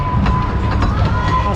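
Pleasure Beach Express, an amusement park ride train at Blackpool Pleasure Beach, rumbling steadily with clattering wheels and a faint squeal, close and loud throughout.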